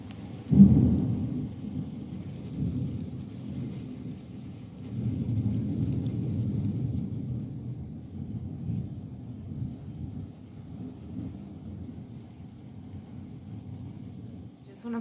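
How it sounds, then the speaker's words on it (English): Rain falls straight down with no wind during a thunderstorm with a tornado warning at an RV park by a lake. It makes a steady hiss. Thunder gives a sudden close rumble early on, and low rumbling rolls on under the downpour. "The rain is falling straight down."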